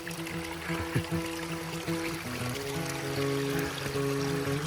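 Water from a waterfall flows and trickles beside stone steps on a Lake District hike, a soft, steady rush that stays faint throughout, with no voices.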